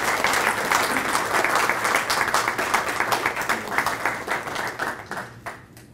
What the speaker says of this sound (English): let's give Wallace and his family a round of applause